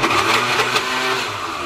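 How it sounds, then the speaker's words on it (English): A blender whirring steadily as it blends a post-workout protein shake, a continuous motor drone with a grinding texture that holds throughout and eases slightly near the end. "Just blend it up like that."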